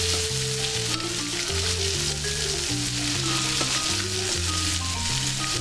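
Chicken sears in a pan with a constant hissing sizzle, heard beneath a loud, steady backing of music.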